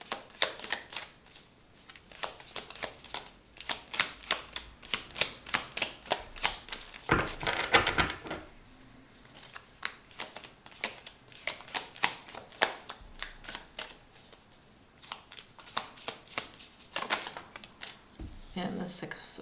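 Tarot cards slapped down and shuffled in a rapid run of crisp, close flicks and snaps, with a brief rustling pause partway through and a soft voice speaking over parts of it.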